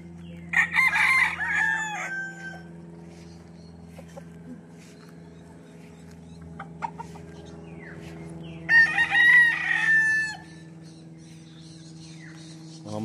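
Gamefowl roosters on a game farm in Bauang, La Union crow twice, each long call rising then trailing off, clear and fairly near, separated by a quiet stretch with a steady low hum in the background.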